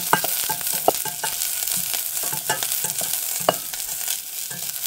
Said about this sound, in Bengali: বেশি করে রসুন আর পেঁয়াজ, রসুনটা অবশ্যই বেশি করে দেবেন এবং অল্প তেলে ভেজে নেবেন।